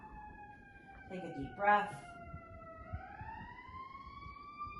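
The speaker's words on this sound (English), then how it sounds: "There's lots of sirens going by." A siren on a busy street wails steadily in the background, its pitch sliding down and back up as it passes, while a calm voice speaks briefly over it.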